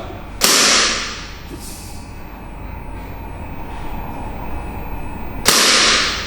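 Two sharp, loud Glock pistol gunshots about five seconds apart, each with a brief echoing tail, and a faint distant pop between them.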